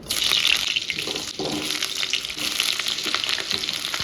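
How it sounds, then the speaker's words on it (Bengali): Potatoes frying in oil for a mutton curry, a steady close sizzle and bubbling hiss running throughout with a brief dip in intensity. "আলুটা ভেজে নেবো"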